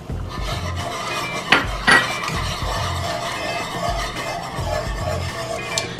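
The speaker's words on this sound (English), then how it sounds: "So just continue to whisk your sauce with the high heat on" A whisk scrapes and rasps through alfredo sauce with Parmesan cheese in a pan on high heat, producing steady close-up stirring and scraping with a few sharper clinks of metal against the pan.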